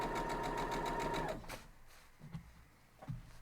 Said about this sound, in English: the rest we can just go on and sew